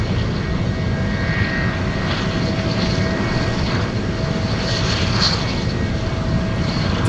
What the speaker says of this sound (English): DC3 flying in from Fairbanks, operated by Desert Air Transport.